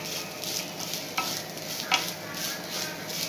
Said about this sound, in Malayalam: ഒന്ന് ഇളക്കിയെടുക്കാം. അതിൻ്റെ തേങ്ങാപ്പാലൊന്ന് വറ്റിക്കഴിഞ്ഞാൽ